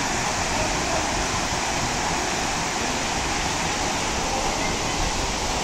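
Spring water flows into a temple pond at Varavi Siddeshwara Kolla near Savadatti, making a steady, loud rush of water that continues unbroken throughout.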